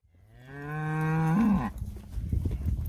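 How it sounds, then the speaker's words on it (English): A single loud, drawn-out moo from a cow close by as cattle are gathered into a ranch corral, followed by shuffling and low rumbling background noise. "gathering up some more cows"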